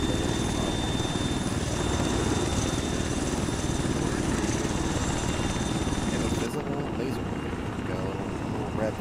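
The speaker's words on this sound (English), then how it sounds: "the Chinook is our ride" Chinook helicopter in a military video game, its heavy rotor thump and engine whine loud and continuous for the whole span, dipping slightly near the end, with radio-style voices talking over it.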